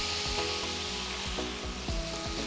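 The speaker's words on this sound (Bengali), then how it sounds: "আমি এই মশলাটাকে কষাবো নারকেলের দুধ দিয়ে" Spice paste for a prawn kofta pulao sizzling in a pan with coconut milk, a steady close fry with rhythmic stirring scrapes about every half second, no talking.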